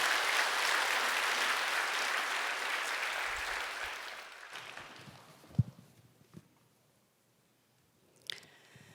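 Church congregation applauding during a Sunday service, a dense steady wash of clapping that fades out after a few seconds, followed by scattered soft thumps and near silence.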